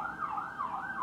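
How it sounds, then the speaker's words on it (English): An emergency vehicle siren wails outside, its tone sweeping up and down in a steady rising-and-falling cycle, faint and distant with no voices. "These sirens are out here for a reason"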